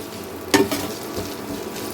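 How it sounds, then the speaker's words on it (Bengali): Potato pieces hit hot oil in a pan with a sudden loud sizzle that then settles into a steady frying hiss, stirred briefly, close by and without any talking. "এখন আলুটাকে আমি একটু এই তেলের সাথে একটু কষিয়ে নেব"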